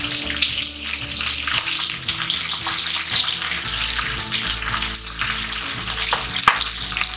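Steady, crackling sizzle of chicken pieces frying in a hot pan for butter chicken, loud and close, with occasional stirring scrapes and no talking.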